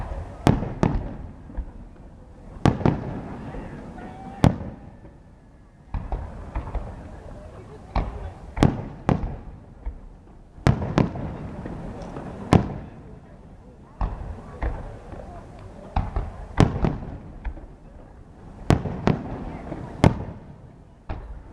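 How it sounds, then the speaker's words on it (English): Fourth of July fireworks over Baltimore's Inner Harbor, with sharp bursts popping every second or two at varying distances, some loud and close, others softer, over a steady crowd murmur. "The 4th of July, fireworks at Baltimore's Inner Harbor."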